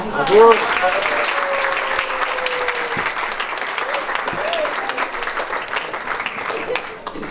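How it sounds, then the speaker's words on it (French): Sustained applause from a crowd at a wedding, steady and fairly loud throughout, with a brief whistle near the start. "Ça mérite un applaudissement."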